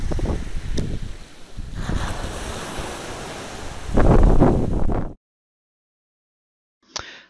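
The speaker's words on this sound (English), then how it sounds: "I see a big splash now" Ocean waves wash onto a beach with heavy wind buffeting the microphone, a surge building loudly near the end before the sound cuts to silence, then a brief final gust.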